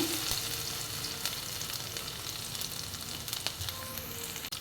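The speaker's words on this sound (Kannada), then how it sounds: "ಅದಕ್ಕೆ ಈಗ ಜಜ್ಜಿದ ಬೆಳ್ಳುಳ್ಳಿಯನ್ನು ಆ್ಯಡ್ ಮಾಡ್ಕೊಳ್ತಾ ಇದ್ದೇನೆ" Crushed garlic sizzles steadily in coconut oil in a clay pot, a dense, even frying hiss close up with a few faint clicks and no talk.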